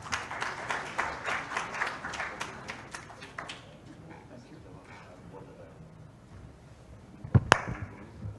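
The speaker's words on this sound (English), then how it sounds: "So a big round of applause for Imran Saab." An audience claps for a speaker at a Rotary club event, a dense round of applause that carries for a few seconds, then dies away into a quieter room, with a couple of sharp knocks near the end.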